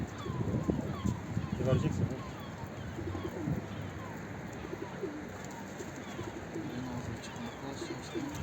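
A male pigeon coos in a repeated soft, low rhythm near a nest spot, with other bird sounds around it and someone speaking over much of it.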